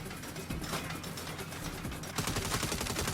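Rapid gunfire aimed at a turret in the video game Saints Row, a dense burst of shots that thickens and grows louder partway through, with no talking.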